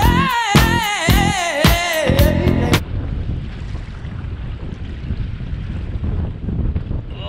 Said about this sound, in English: It's windy. The wind's blowing to the east